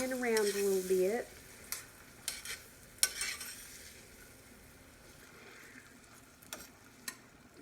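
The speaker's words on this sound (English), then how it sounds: "So you want to kind of saute your onion around a little bit." Long strips of onion sauté in a pan with a soft, low sizzle under scattered stirring knocks and scrapes, after a brief opening whistle-like tone.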